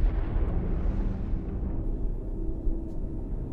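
Aerial bombs dropping and detonating in the space-sim game Star Citizen, aimed at a Polaris ship, give a continuous deep, rumbling roar of blasts that stays loud for a few seconds and then slowly fades.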